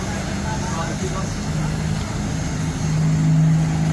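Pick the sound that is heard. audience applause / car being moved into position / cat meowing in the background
car being moved into position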